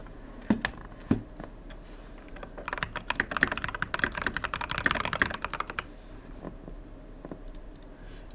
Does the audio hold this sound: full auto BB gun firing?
no